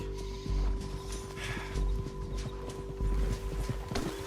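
Horse hooves clip-clop at a steady walking rhythm in Red Dead Redemption 2. Low thuds repeat under a faint background hum, and one brief snort or rustle comes near the end.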